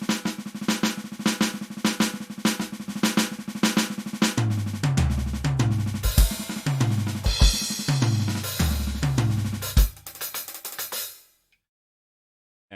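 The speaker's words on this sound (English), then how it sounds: "Today we continue our exploration of double stroke rolls by dipping into the six stroke roll." A six-stroke roll is played on a drum with a 16th-note feel. Fast, dense strokes repeat in tight groups over a backing track, and everything stops abruptly near the end.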